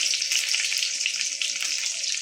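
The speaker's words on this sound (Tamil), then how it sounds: "பூண்டு வந்து கோல்டன் ப்ரௌன் வர வரைக்கும் வதக்கிக்கணும்" Steady, dense sizzling of garlic frying in hot oil, a continuous bright crackle with no talking.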